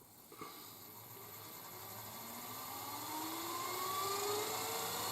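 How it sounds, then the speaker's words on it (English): A wood lathe spins up to about 1400 rpm in a workshop, ready to turn forgotten spalted blanks. A steady whine rises gradually in pitch and grows louder, with a brief knock near the start and no talk. "Got the lathe running"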